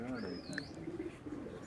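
Soft, low cooing from pigeons kept on a rooftop in Quetta, Balochistan, close by and partly buried under someone talking throughout, with a brief higher chirp in the middle.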